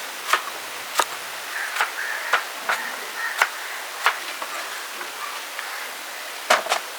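Squid being sliced into long thin strips with a knife, sharp chopping taps on a board at an uneven rhythm, about a dozen cuts heard close and alone.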